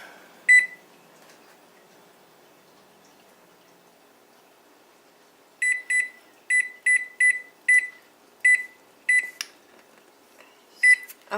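An oven timer is set for a baking carrot cake: one early beep, a pause, then a quick run of about ten short keypad beeps, crisp and close in an otherwise quiet kitchen.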